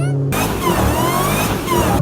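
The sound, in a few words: Dodge Hellcat engine revving while drifting on a racetrack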